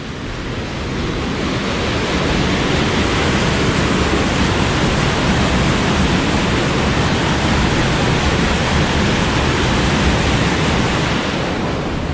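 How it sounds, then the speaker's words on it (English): Water wheels turn in Munich amid a loud, constant rush of churning water that fills the whole stretch without a break. "Those are the water wheels."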